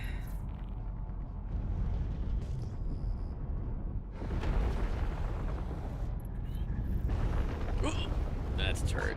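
Heavy turret gunfire from a ship in the space game Star Citizen, a loud sustained rumbling barrage with bursts swelling midway, mixed with mechanical rattle and faint voices underneath.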